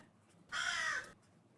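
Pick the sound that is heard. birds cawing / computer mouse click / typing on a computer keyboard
birds cawing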